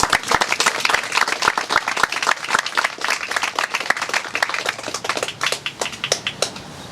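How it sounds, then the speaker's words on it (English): Applause from a crowd at a Boys & Girls Club ribbon-cutting for a new Sport Court, dense steady clapping that thins slightly toward the end, with no talking. "Please give a round of applause to the Sport Court installer, Barrett Park, and his team for making this"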